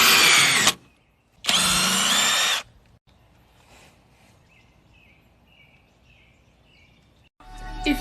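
Two loud bursts of a power drill driving a screw, separated by a brief pause, followed by quiet with faint chirping and another drill burst starting at the end.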